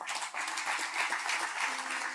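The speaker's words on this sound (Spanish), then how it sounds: "Démosle un aplauso al Señor," Congregation applause at a Spanish-language church service, a dense, fairly soft wash of many hands clapping, steady and continuous from start to finish.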